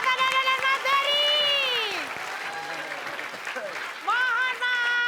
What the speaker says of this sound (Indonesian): Oke, kita kasih tepuk tangan buat Pati,